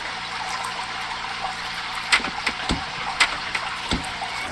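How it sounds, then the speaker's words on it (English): Running shower water in The Sims, a steady hiss of spray with a few sharper splashes and clunks partway through, moderately loud and heard alone. "Shower time for you."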